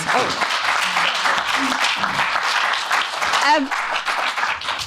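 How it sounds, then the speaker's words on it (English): Audience applause at a literacy forum launch, a steady clatter of many hands with voices and cheers mixed in over the clapping. "a round of applause, please, for our lovely PIs"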